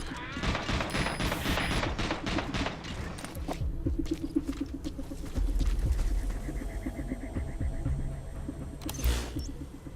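Gunfire in the video game Metal Gear Solid V: The Phantom Pain, rapid bursts of shots followed by scattered single cracks and a heavier boom, with faint voices mixed in.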